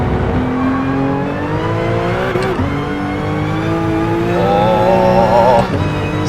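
A RUF CTR3 in a VR racing game accelerates hard down a straight, its engine note climbing steadily through the gears with brief dips at each shift, loud and close with no talk over it.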